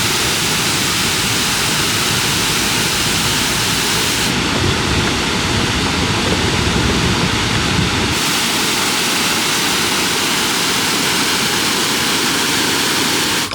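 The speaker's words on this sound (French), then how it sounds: "il y a des nouvelles cascades qui sont apparues ici et de l'autre côté. Et un volume d'eau, je sais pas, qui est 5-6 fois supérieur" Waterfalls in Cao Bang, Vietnam, running with very high water volume, giving a loud, steady, unbroken roar of falling water that fills the whole stretch with no voices.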